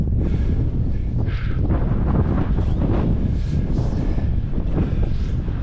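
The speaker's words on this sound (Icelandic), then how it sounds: "Það vindur nú svo mikill." Strong wind at a glider airfield roars and buffets the microphone continuously, a loud, rumbling gusty noise with no break.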